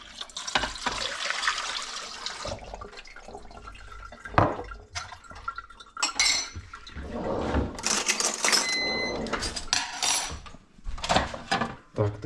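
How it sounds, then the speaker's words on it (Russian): A mug is rinsed under a running kitchen tap, with splashing water, quick swishing and clinks against the sink, close and fairly loud, in uneven bursts. "Так, моя любимая кружка. Да ее помыть сейчас."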